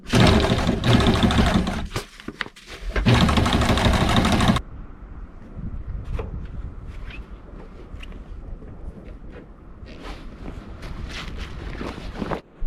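Sewing machine stitching a Velcro modification onto a sailboat's sail stack pack aboard a cruising boat, loud continuous motor whir in bursts for the first few seconds, then quieter rattling and handling noises.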